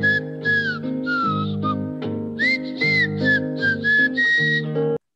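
A melodic tune whistled by a single person, in short bright phrases with rhythmic pauses, close and loud with accompanying music underneath.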